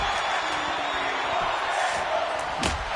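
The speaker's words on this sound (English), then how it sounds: "Crowd chanting that they want the tables" Arena crowd at a live pro wrestling event during a United States Championship match, a dense steady roar of many voices chanting in unison, loud and continuous with a sharp slam near the end.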